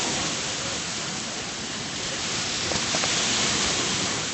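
Sea waves on an ordinary beach make a steady, broad rushing wash that swells slightly toward the end, with no talking.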